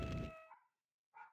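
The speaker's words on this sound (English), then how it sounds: "my dog is barking" A game dog gives one loud bark followed by a softer yip after a short pause, with cartoon sound effects from a point-and-click adventure game.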